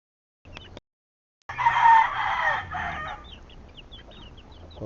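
A rooster crows loudly at close range in one long call, with a brief earlier burst and soft hen clucking trailing off afterward.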